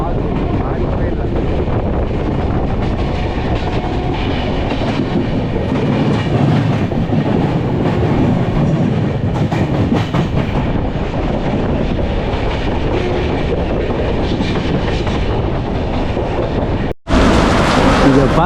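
Deccan Queen passenger train travelling to Lonavala during the monsoon, with a loud, continuous rumble and clickety-clack of wheels on rails mixed with wind buffeting, and a brief cut near the end.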